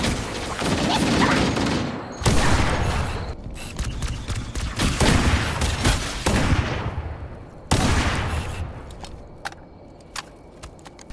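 Bursts of rapid gunfire in a Halo battle, loud and dense volleys broken by brief pauses, then thinning into scattered single shots toward the end.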